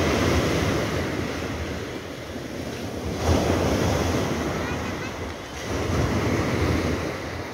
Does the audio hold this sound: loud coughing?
no